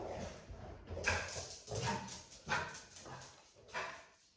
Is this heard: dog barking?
yes